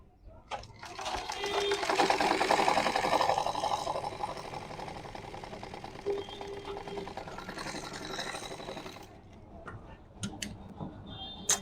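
Sewing machine stitching a pant seam during a tailoring lesson, running steadily and loudly for about nine seconds with a slight swell near the start, then stopping, followed by a few faint clicks.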